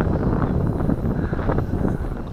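Strong wind, around 50 knots, buffets the microphone on a windy day out near bushes, giving a continuous loud, low rumbling roar with gusty swells throughout.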